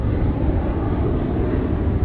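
A loud, steady roar from a fixed-wing airplane landing in a gusty crosswind at Tampa airport fills the whole clip as an unbroken rumble.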